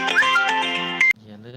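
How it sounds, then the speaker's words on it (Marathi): A mobile phone ringtone plays a short bright melodic tune for about a second, then cuts off abruptly as the call ends, with faint indoor background afterward. "फोन आला फोन आल्यावर बंद झाला"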